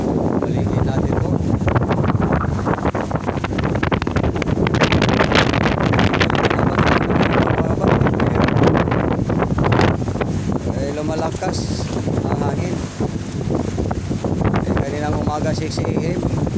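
Strong wind roars steadily across the microphone at sea on the way to open water, with a constant broadband rush and buffeting.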